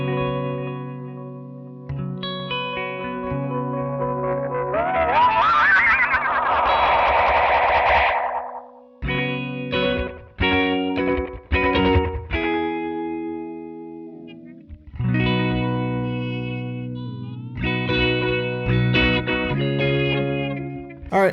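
An electric guitar through a Hologram Electronics Chroma Console delay effect plays notes that repeat as trailing echoes, with a swirling, warbling swell partway through before picked notes and their delayed repeats return.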